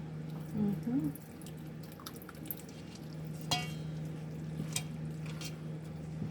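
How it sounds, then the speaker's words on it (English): Carbonara egg sauce being poured over pasta in a home kitchen, giving soft wet squishing and dripping with a few light clinks, moderately quiet over a steady background hum. "Just pour it right over the pasta."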